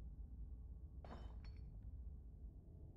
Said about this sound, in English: The sound of a distant breaking glass cuts through the silence of the clinic outside the safe room.